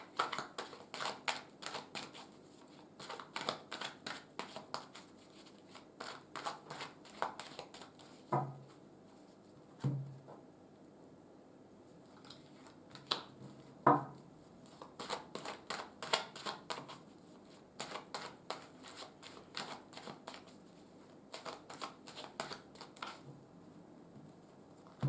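Tarot cards are shuffled and drawn in a long run of soft, fast riffling patter with brief pauses and a few sharper card snaps, close and quiet, with no talk.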